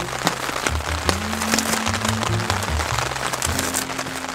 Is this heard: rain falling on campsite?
yes